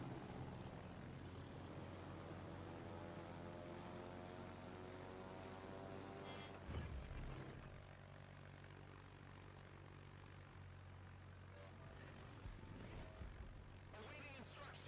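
A fighter plane launching from a warship in World of Warships, a propeller aircraft engine droning low and steady, then a brief swell and a softer fading hum.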